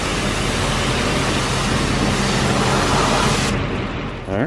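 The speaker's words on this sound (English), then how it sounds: "They have a really nice high pressure RV wash. And boy, did Charlie our Airstream need it." A high-pressure RV wash spraying down an Airstream trailer, a loud, steady, close hiss of water jet that cuts out abruptly near the end.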